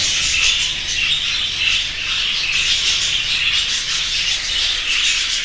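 Pet budgerigars kept by a breeder fill the space with a dense, continuous mass of chirps, twitters and squawks, close and loud throughout with no pauses.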